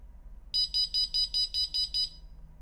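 A ColorAlti 3 altimeter previews an ascent alarm: a rapid series of eight high-pitched electronic beeps in quick, even rhythm, close and piercing against near silence.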